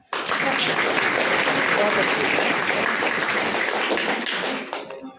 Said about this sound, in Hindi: तो इसी बात पे मेरे साथ एक ताली बजाएं